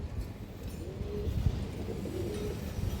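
A pigeon held in someone's hand gives soft low coos, faint and steady against a murmur of background noise.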